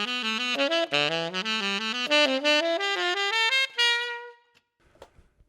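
A saxophone plays a simple four-note phrase, repeated through a run of shifting keys in steady, clean notes, close and clear, then a long held tone fades into a few soft clicks.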